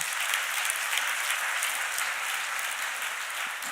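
A church congregation gives a church elder a steady round of applause, a dense wash of many hands clapping evenly throughout.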